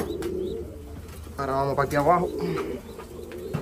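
Domestic pigeons coo inside a loft in a low, rolling burst that swells and fades over about a second, close to the listener, while someone talks in Spanish before and after it.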